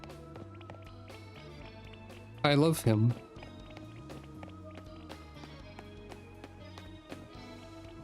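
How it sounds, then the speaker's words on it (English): Chikorita's footsteps in Pokémon Legends Z-A make light, quick, evenly paced taps under game music, while a person talks and briefly lets out a loud excited vocal burst. "His little footstep-y sounds."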